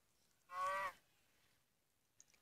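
A single short synthetic Minecraft cow moo, clear and close, followed by quiet and a faint tick.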